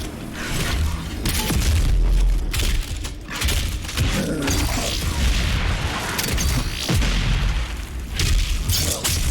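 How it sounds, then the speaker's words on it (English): Rocket explosions from a multi-rocket launcher in DOOM, a steady barrage of loud booms and crashing blasts layered over dense game noise, with no quiet gaps. "that multi-rocket launcher to the face took care of him"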